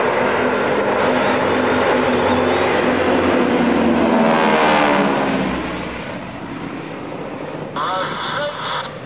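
North American Harvard trainer aircraft roar past at an airshow, the loud broadband engine noise swelling to a peak midway before easing off, with a commentator talking over it.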